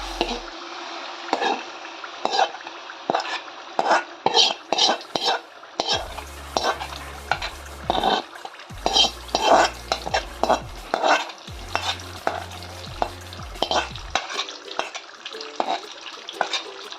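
Red chili paste fries in about 200 grams of hot oil, sizzling while a utensil stirs and scrapes in quick repeated clatters, with a low hum coming and going underneath.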